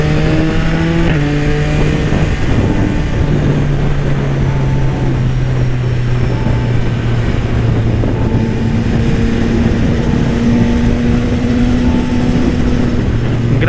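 A Yamaha XSR900 motorcycle fitted with an Orion exhaust is ridden at speed, its engine loud and continuous, with the pitch climbing and falling through gear changes amid steady wind rush.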